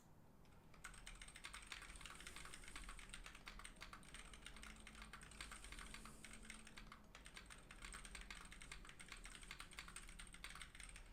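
Steady, dense typing on a mechanical keyboard fitted with ZealPC Zealio 65g V2 switches, close and continuous keystroke clatter for the whole stretch after a brief quiet start, with no talking.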